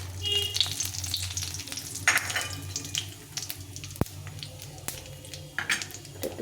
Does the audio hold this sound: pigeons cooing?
no